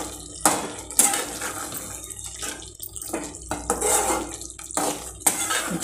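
A metal utensil scrapes and clatters against a pan while stirring chicken masala, in irregular bursts with some wet sizzling in between and no talking.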